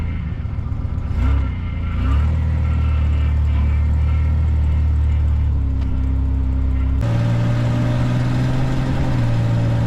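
A Ford Bronco II with a rebuilt transmission and a swapped-in motor drives with a close, steady engine rumble and hum. The pitch drops sharply partway through as it shifts gears.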